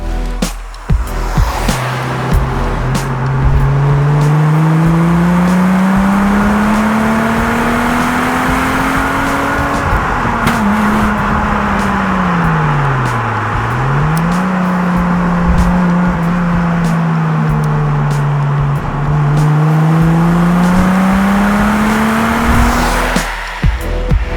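An Alfa Romeo SZ sports car engine roars loudly and continuously, climbing in pitch, dipping briefly, then rising again as it revs hard, with squealing tires.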